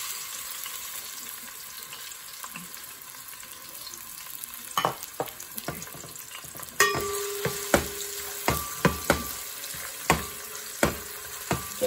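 Onions hitting hot oil in a pan for an aloo methi gajar matar sabzi, a quiet hiss that grows into sizzling with a run of sharp spoon clicks and scrapes against the pan in the second half.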